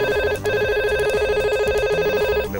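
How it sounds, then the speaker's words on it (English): A VoIP desk phone rings for an incoming call from another extension, a loud, close, steady electronic ringtone of pulsing repeated tones with a brief break before it resumes. "the phone is ringing"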